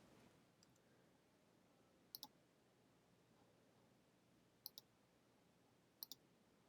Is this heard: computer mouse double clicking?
yes